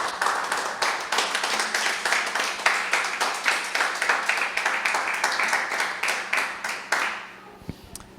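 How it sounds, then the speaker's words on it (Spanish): A church congregation claps during a sermon, a steady crowd of sharp, close hand claps that keeps going for about seven seconds and then stops abruptly, leaving near-quiet. "Dale un aplauso al Señor."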